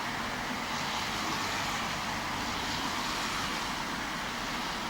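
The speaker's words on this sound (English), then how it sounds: "I'm fed up listening to that traffic all the time." Steady, continuous roar of traffic on a main road in Crieff, a dense broadband wash of passing cars with no distinct breaks, heard from a moderate distance and fairly loud throughout.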